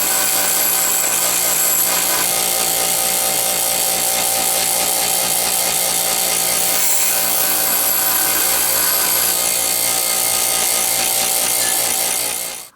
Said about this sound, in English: the ends of my shaft here are really ragged, so I'm going to clean those up with a grinder